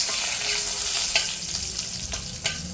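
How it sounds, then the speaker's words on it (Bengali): Whole cumin seeds and halved bay leaves sizzle steadily in hot oil, a close, continuous frying hiss broken by a few sharp pops and crackles as they are stirred. "এই মুহূর্তে আমি দিয়ে দেব ফোড়নে গোটা জিরে, দুটা তেজপাতাকে আমি দুফালি করে ফাটিয়ে নিয়েছি।"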